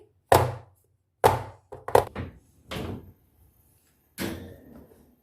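Five sharp knocks as a cake tin filled with fruit cake batter is tapped down on a counter. The knocks come irregularly, each one loud and percussive with a short ring, and two of them fall close together.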